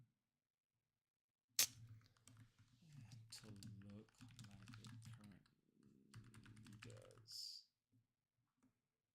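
Fast, clattering keystrokes on a computer keyboard run in uneven bursts at close range, with someone speaking over the typing and a short pause before it resumes.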